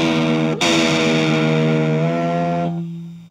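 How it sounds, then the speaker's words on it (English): Vibrating string on a custom-built electric guitar, amplified through coil-and-magnet pickups into a loud, buzzing, distorted sustained tone that cuts off sharply near the end. "You can see how from the vibration it creates noise. That's the coil and the magnet doing their job."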